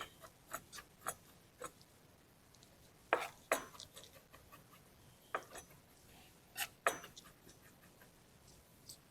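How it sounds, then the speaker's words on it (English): Homegrown jalapeno peppers chopped on a board for stuffed jalapenos and salsa verde: quiet, irregular knife taps in small clusters, some sharper than others, with no talk. "I'm gonna actually chop this up"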